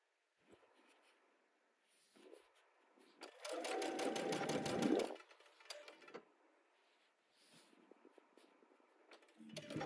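A sewing machine stitches a quilt seam on a Tula Pink butterfly quilt, running in one fast, steady burst of about two seconds mid-clip, with quiet fabric handling before and after.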